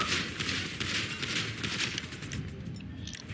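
Rapid, continuous gunfire from the GTA V police mod LSPD-FR rattles loudly for a few seconds with no pause.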